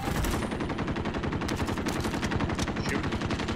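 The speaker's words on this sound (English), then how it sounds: "I'm shooting him through the walls." Rapid, sustained automatic gunfire from a silenced AK in a first-person squad shooter, dense and continuous bursts firing through walls, loud and up close with no talk over it.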